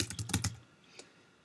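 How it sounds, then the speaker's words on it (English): A short burst of keystrokes on a computer keyboard while entering text in a CAD program, a few quick clicks followed by a single isolated tap, close and fairly quiet. "so we could continue typing"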